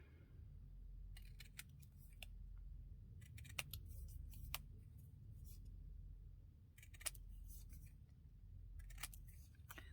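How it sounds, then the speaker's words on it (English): Scissors snip through a small paper ticket for a junk journal cover in several quiet, crisp bursts of cuts over a low steady hum, close and faint. "Just want to cut off a piece here."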